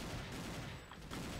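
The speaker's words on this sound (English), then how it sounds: "I'm gonna take a mini machine gun" A mini machine gun in the 2D shooter Soldat fires in quick bursts, loud and close, with a brief gap before the rattle resumes.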